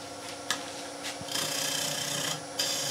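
A gouge cuts the front of an open wood vase spinning on a lathe, a close, continuous raspy scraping hiss with a few brief bumps as the tool meets the wood.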